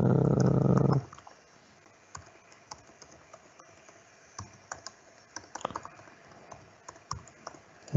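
Fingers tap out a password on a computer keyboard during a tech presentation. Soft, irregular key clicks come in scattered bursts at close range, after a brief louder noise at the very start.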